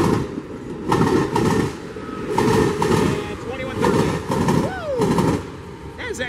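A freight train's wheels cross a rail diamond, clattering in a rapid series of heavy metallic bangs, loud and close, with a squeal and rumbling underneath.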